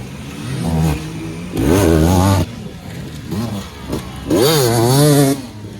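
An enduro motorcycle rides through a section of an enduro track, its engine revving up and dropping back in three or four distinct bursts of rising and falling pitch, loud and close, with no talk over it.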